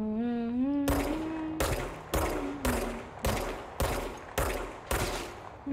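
Video-game gunfire rings out as a string of about eight loud, sharp shots in steady rhythm, each with a short decaying tail, preceded by a rising electronic tone.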